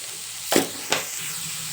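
Tomatoes with salt sizzle in a pan for Kolhapuri misal while a spoon stirs, two quick scraping strokes over a soft steady frying hiss, close and alone.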